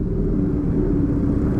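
Cars and motorbikes in a rain-soaked traffic jam give off a dense, steady low rumble of idling and creeping engines, continuous and fairly close, with no voices.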